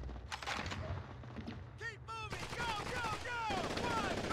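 Gunfire in the World War II video game Call of Duty 2: Big Red One, with rapid machine-gun bursts and scattered shots amid whistling and battle noise, moderately loud, with voices talking.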